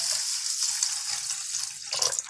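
Water is drained off washed lentils for restaurant-style dal makhni, a close, steady splashing hiss of pouring liquid that swells into a brief, fuller gush near the end.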